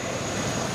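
A CH-47J military helicopter at a Japan Self-Defense Force air show, a loud continuous rotor and engine roar with strong wind noise up close.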